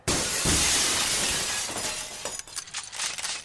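Loud glass shatters in a burst, followed by scattered tinkling shards falling and clinking for a couple of seconds.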